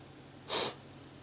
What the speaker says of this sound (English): Sorry I'm sniffling in the camera. My allergies are out of control.